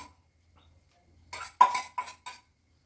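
Fried rice being stirred with sauces in a pan, a quiet pause followed by four short bursts of scraping and clinking from a spatula against the pan, fairly close.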